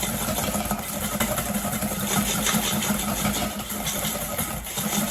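An electric mixer runs loud and steady close by, its motor whirring continuously as it beats almond cream with eggs for a tart filling.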